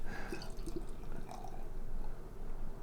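Barrel-aged double stout poured into a glass, a steady close liquid trickle with faint dripping running throughout without talk.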